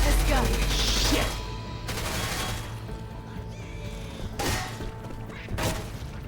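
Gunfire from a weapon in Left 4 Dead 2, a zombie shooter, with a burst of loud shots at the start and a few sharp bangs later over a dense game soundscape and background music.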